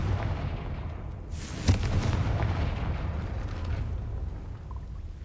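A single booming blast from the Confringo spell in Hogwarts Legacy hits sharply about halfway through, over a steady low rumble of game ambience.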